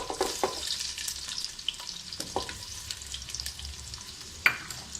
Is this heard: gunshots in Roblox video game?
no